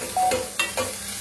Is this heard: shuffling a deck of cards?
no